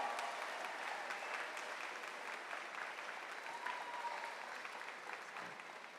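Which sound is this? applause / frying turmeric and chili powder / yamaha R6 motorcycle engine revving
applause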